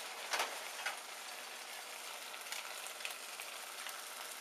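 Warm cooking liquid ladled onto risotto rice in a hot pan gives a soft, steady sizzle, with a brief louder splash near the start and faint crackles throughout, heard close and alone.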